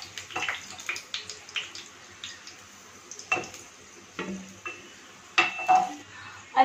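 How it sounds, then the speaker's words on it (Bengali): Rice grains being washed in a pot of water make close splashing, sloshing and light clinking sounds in irregular bursts. "ভাতের চালটা নিয়ে এসে ধুয়ে ভিজিয়ে রেখে দিই"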